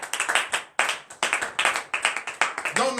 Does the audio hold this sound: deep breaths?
no